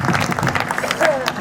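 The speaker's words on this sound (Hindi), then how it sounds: "जोरदार तालियों से आप" Loud, close applause from an audience at a Shahpura festival stage show, a busy burst of clapping filling the short moment with crowd noise mixed in.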